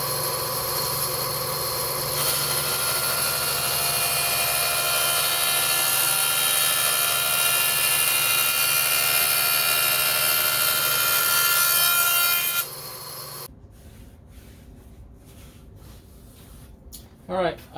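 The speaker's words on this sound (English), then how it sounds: "then we'll take the sander to get them perfectly straight" A sander grinds along cut lines on steel for a BBQ cooker, a loud, steady abrasive roar that lasts about twelve seconds and then stops, followed by quieter handling sounds.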